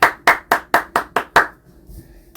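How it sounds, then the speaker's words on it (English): One person clapping for themselves after a workout on an exercise bike: seven sharp, evenly spaced claps close by, then a quiet room. "I'm going to give myself a round of applause."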